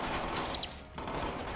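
Gunfire during a firefight in Watch Dogs 2: a steady, noisy wash of rapid shots and bullet impacts, continuous and moderately loud, with a brief dip near the end.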